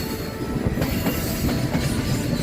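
A Class 59 diesel hauling an aggregate freight train rumbles steadily past at Willesden Junction, loud and close, with continuous wheel noise, faint clatter and occasional metallic squeal.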